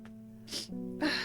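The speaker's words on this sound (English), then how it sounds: "I'm going to sneeze again." A person sneezes at close range during pollen season: a sharp breathy burst, then a short gasp and a second louder sneeze. Faint steady tones hum underneath.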